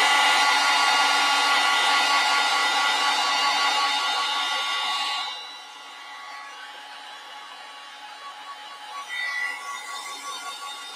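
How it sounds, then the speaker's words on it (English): A hair dryer drying a watercolor painting blows with a loud, steady whirring roar for several seconds, then cuts off, leaving a quieter background hum with faint rustling. "so I'm going to just use my hair dryer."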